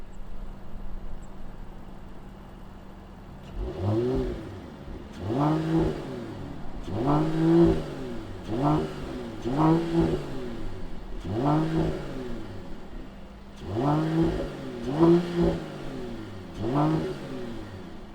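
A 2021 Mercedes-AMG GT 43 engine idles, then revs up in a series of about ten short, sharp blips that rise and fall in pitch, close and loud.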